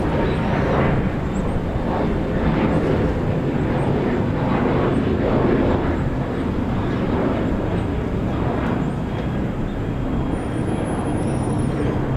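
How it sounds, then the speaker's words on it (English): An Air Incheon Boeing 737-800 airliner departs Incheon Airport for Osaka, its steady broadband jet roar holding loud and constant throughout with no talk over it. "Air Incheon departing for Osaka"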